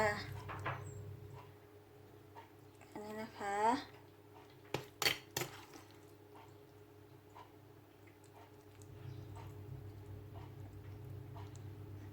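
Plates and utensils clink while a pounded fish dish made with giant water bug is plated: a few sharp, close knocks bunched together in the middle, with quiet background murmur and faint voices around.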